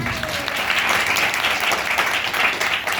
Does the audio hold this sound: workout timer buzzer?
no